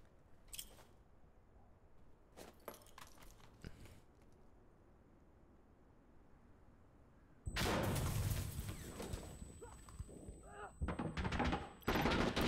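A frag grenade and gunfire in the video game Insurgency: Sandstorm: quiet scattered shots at first, then a loud sustained burst of explosion and rapid gunfire that grows heavier toward the end, with a voice speaking in between.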